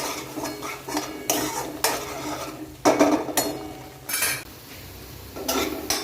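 Spiced masala with onions and tomatoes roasts in a pan for a potato curry, with repeated scraping and stirring of a spoon against the pan over a low sizzle, in irregular bursts.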